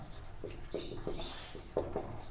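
A maths derivation is written by hand, with a few short scratchy pen or chalk strokes in quick uneven bursts, faint and close, with no speech.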